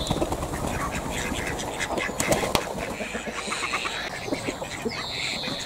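Ducks quacking in a steady, overlapping chorus, moderately close, with a busy outdoor background.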